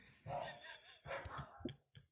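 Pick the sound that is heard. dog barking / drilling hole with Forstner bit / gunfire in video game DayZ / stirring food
dog barking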